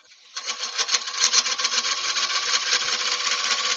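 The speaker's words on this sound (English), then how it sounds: "What speed are you turning at, Wayne? 930 RPM" Wood turning on a lathe spinning at 930 RPM gives a continuous hissing, rasping cut that starts abruptly after a brief quiet moment and holds steady and close to the end.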